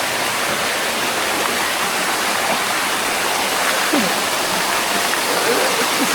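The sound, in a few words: waterfall at Balite Falls, Amadeo, Cavite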